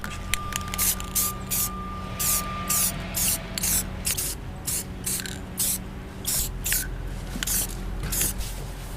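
Spray paint, Valspar camouflage, hisses onto a homemade GoPro stabilizer rig in a string of short, close bursts with brief pauses between them, and no talking.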